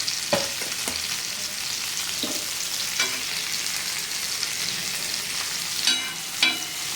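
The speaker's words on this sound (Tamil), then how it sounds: "இப்படி போட்டு கொஞ்சம் 2 கிளறி எண்ணெயில் இப்படி வதக்கிட்டு" Bitter gourd sautéing in hot oil gives a steady, close sizzle. Sharper scrapes and knocks from the stirring spoon break in at intervals. No voices are heard.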